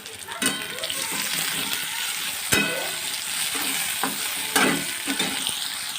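Ingredients fry in a pan until reddish while being stirred for upit, a constant close sizzle broken by several sharp scraping strokes of a spatula.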